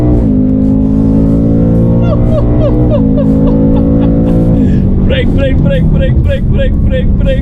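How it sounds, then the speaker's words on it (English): A 2022 Ford Mustang Mach 1 launched at full throttle with traction control off, its engine note climbing steadily through the revs with a shift around midway, loud and continuous, with someone talking over it. "I'm going to leave traction control off, and I'm just going to floor it."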